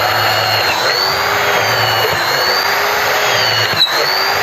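A small electric drill of about 200 watts whines steadily at high speed, running continuously and close by with a faint dip near the end.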